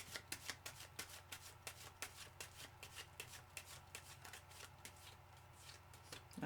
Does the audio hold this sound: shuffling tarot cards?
yes